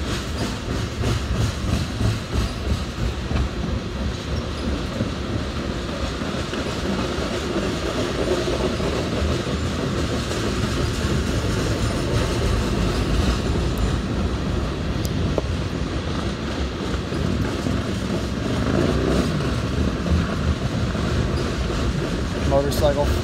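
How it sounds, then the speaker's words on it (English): A lone SD70ACe locomotive hauling a full-length oil tanker train, heard as a continuous loud rumble with rhythmic wheel clatter rolling past nearby, with occasional talk under the noise. "One ACE hauling an entire tanker train."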